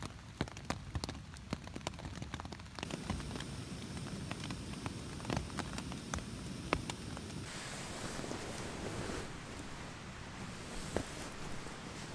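Rain patters steadily on a tarp shelter while backpacking in Colorado's Never Summer Wilderness, a dense hiss with scattered louder drops tapping close by and a faint wind rush beneath, no voices.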